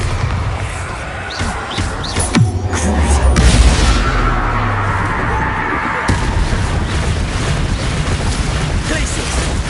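Bombarda spell going off in a Harry Potter video game: a heavy booming blast swells near the middle, followed by rumbling debris and continuing game noise.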